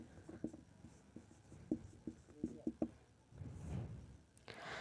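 A pen scratches across paper while a Class 10 geometry proof is being written out, with irregular short strokes and taps close by, a few sharper clicks in a cluster, then a softer rustle near the end.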